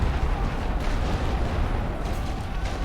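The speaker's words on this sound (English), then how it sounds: "we've got a lot of fire coming in" Incoming World War I artillery fire in The Great War: Western Front, heard as a dense, continuous rumble of overlapping booms and blasts with no clear gaps, steady and fairly loud throughout.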